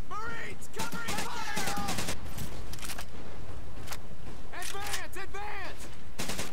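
Sustained covering gunfire in the Pacific-theatre video game Medal of Honor: Pacific Assault, with bursts of rifle and machine-gun shots, ricochets and whizzing rounds, loud and continuous, with shouted voices mixed in.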